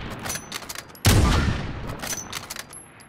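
Gunfire and a heavy boom from a Call of Duty Warzone match, a sharp loud blast followed by a long decaying rumble, with scattered faint shots before and after.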